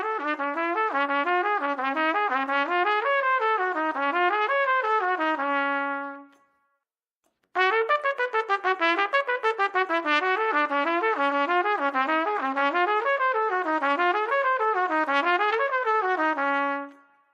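A trumpet plays a practiced passage over two bars, repeated twice as a steady run of notes at close range, each pass loud and continuous, with a short silent gap between them and no talking.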